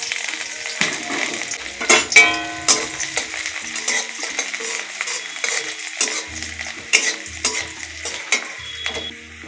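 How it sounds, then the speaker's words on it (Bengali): Chopped garlic sizzles in a little hot oil left in a wok after frying cauliflower, with steady frying hiss broken by repeated sharp stirring clinks of a utensil against the pan, close and fairly loud. "অল্প তেল রেখে দিয়েছি কড়াই এই তেলেতেই রসুন কুচানা দিয়ে দেবো"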